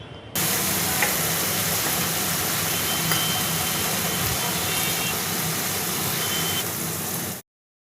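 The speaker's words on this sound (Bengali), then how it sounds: "এটি ভালো করে মিশিয়ে আমাকে মশলাটা ভালো করে কষাতে হবে যতক্ষণ না পর্যন্ত তেল ছেড়ে আসবে।" A spice paste of turmeric and salt fries in oil for khichuri, giving a dense, even sizzle that holds steady and close throughout before cutting off.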